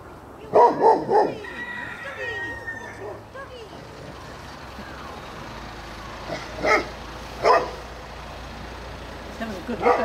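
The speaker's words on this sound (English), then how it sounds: "Woof, woof, woof!" A dog barks outdoors at a community gathering: a quick burst of three barks, then a pause, then two more spaced barks, over a low engine rumble with people talking nearby.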